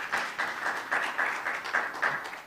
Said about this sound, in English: A warm round of applause to them as well, please.